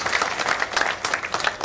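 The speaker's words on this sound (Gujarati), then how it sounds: "તાળીઓથી એમના વધામણા કરીએ" Audience applause at a farewell ceremony, a dense, steady patter of many hands clapping together at moderate volume for the whole short stretch.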